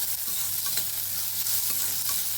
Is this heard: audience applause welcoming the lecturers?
no